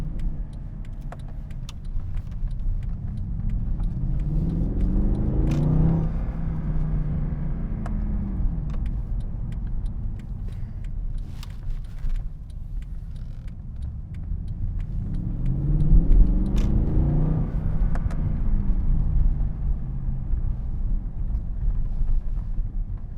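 A 2012 Mercedes-Benz C63 AMG engine heard from inside while driving: a low rumbling drone that swells twice as it revs up and settles, with wind and road noise, no talk.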